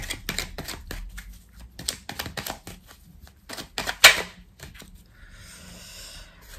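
Tarot cards shuffled by hand close up, a run of quick crisp riffling clicks and flicks in bursts, ending with a softer papery slide.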